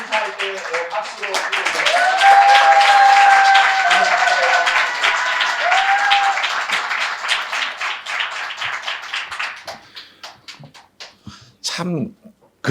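Sustained applause from a church congregation at a Sunday service fills the room, then thins into scattered claps and dies away, after which a person begins talking.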